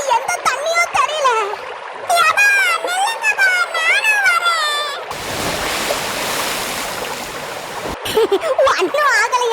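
Cartoon waterfall water splashing and pouring down in a broad, loud rush for a few seconds, set between stretches of animated character voices talking before and after.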